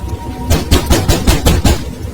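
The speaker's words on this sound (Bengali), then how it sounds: "কে যেন ওপাশ থেকে দরজার কড়া নাড়ছে" A door knocker bangs against a door at night in a Bengali ghost cartoon, six loud, evenly spaced knocks close by, with rain hissing faintly in the background.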